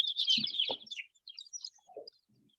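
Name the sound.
chicks peeping in a farm brooder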